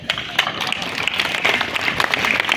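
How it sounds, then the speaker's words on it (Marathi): Applause from a crowd at the opening ceremony of a state-level school hockey tournament, dense rapid clapping heard close and lively for the whole short stretch. "जोरदार टाळ्या."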